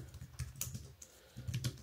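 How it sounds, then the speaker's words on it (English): Typing on a thin Huawei Ultrathin wireless keyboard, styled like an Apple Magic Keyboard: soft, close key clicks in an uneven quick rhythm, heard alone at low volume. "Here I am actually typing"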